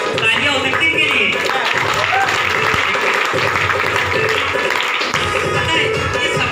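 An audience at a talk breaks into sustained, loud applause that fills the room steadily for several seconds, with a few voices mixed into the clapping.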